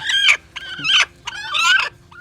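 A brooding hen sitting on eggs clucks in several short bursts, close and fairly loud, with brief pauses between calls.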